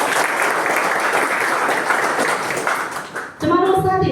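An audience at a business motivational talk gives a dense, loud burst of sustained applause, which ends abruptly as a voice begins speaking.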